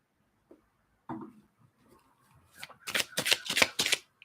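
A deck of tarot cards is shuffled close by, a few soft handling sounds first, then a quick run of crisp riffling flutters that stops abruptly.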